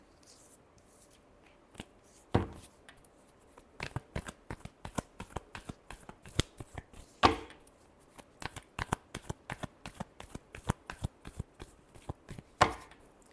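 Tarot cards being shuffled in a long run of quick, crisp riffling clicks and snaps, with a few louder slaps standing out among the steady patter, close and alone with no talking.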